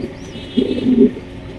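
Racer pigeons with their young give a short burst of low, soft cooing calls close by, rising briefly from a quiet background.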